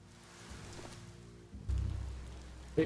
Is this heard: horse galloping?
no